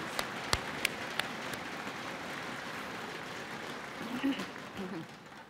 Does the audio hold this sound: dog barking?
no